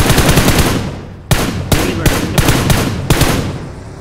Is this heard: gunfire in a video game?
yes